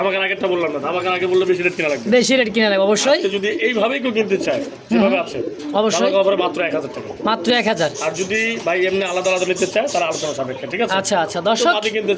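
Racer pigeons coo in low, rolling, repeated calls close by, overlapping almost continuously alongside someone talking throughout.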